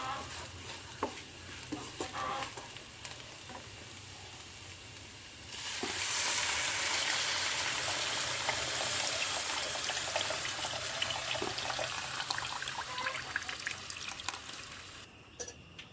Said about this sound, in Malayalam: നമുക്ക് ഇത് പുളി ഒഴിച്ചു കൊടുക്കാം